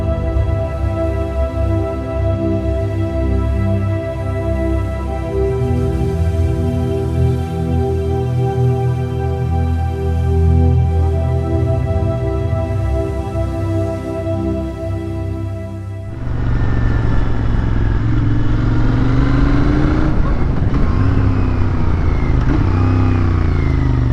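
Royal Enfield Interceptor 650 motorcycle on the move, its engine note steady and close throughout, rising into a rougher, louder surge of throttle and wind over the last third with no talking.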